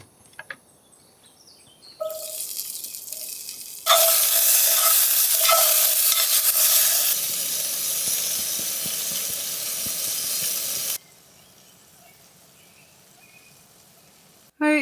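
Mushrooms sauteing in a pan for dinner, a steady loud sizzle and hiss with occasional stirring scrapes, swelling suddenly and holding for several seconds before dropping back to quiet background.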